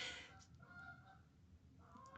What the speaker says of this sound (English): Geese flying overhead.